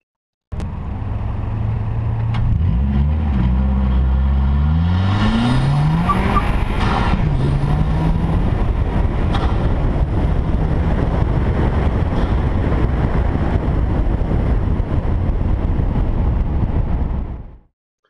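A Mazda 3 MPS (MazdaSpeed3) turbo hatchback accelerating hard, the engine note climbing through rising gear pulls with brief shift breaks, then settling into a loud, sustained roar of road and engine noise before cutting off abruptly.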